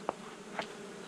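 A honey bee colony buzzes during an early spring hive inspection, a steady low drone with a couple of brief louder passes of bees close by, and no talking.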